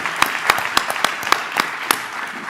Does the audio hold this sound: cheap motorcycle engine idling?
no